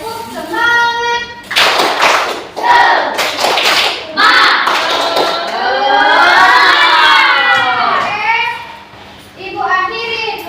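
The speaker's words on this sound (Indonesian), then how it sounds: "Oke, tepuk semangat." A classroom group of children performs a rhythmic spirit clap, bursts of clapping and thumps interleaved with children chanting and calling out together, loud and close, with pauses between the clapped phrases.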